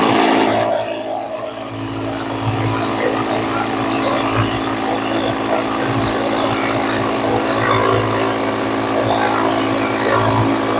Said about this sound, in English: this is our brand new SDS Max 1 9/16 rotary hammer. We're going to drill a 1-inch hole for you.